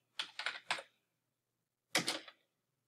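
Brief bursts of computer keyboard typing while writing PowerShell code: three quick keystroke clusters, a pause, then another short cluster, crisp and close in an otherwise quiet room.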